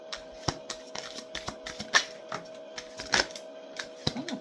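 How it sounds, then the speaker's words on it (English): A deck of playing cards being shuffled once, a dense run of crisp riffling clicks and snaps with a few louder slaps, close and alone over a faint steady hum. "I'm just going to go through a shuffle"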